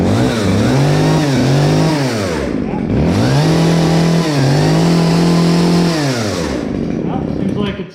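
Freshly repaired chainsaw with its chain put back on, started with a touch of choke, revving hard in two long bursts with a brief drop in between, loud and close.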